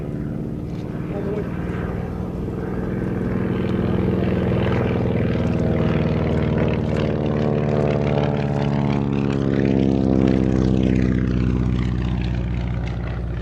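A Beech Model 17 biplane flies at the Shuttleworth air show. Its propeller engine gives a loud, continuous droning hum whose pitch bends and sweeps as the aircraft passes.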